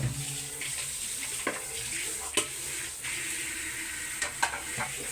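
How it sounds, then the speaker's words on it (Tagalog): A plate is washed under a running kitchen tap, with a continuous rush of water and occasional clinks and scrubbing knocks close by, and a voice faintly speaking in the background. "Kuskusin mo mabuti yung plato."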